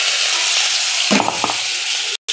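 Green chilli paste hits hot oil with a steady, bright sizzle, and a brief stirring clatter sounds partway through.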